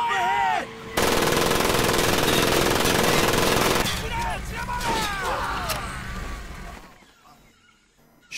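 Sustained, loud automatic gunfire in the Medal of Honor video game rattles for several seconds, followed by sparser shots and scattered combat noise. Shouted game voices come through alongside it.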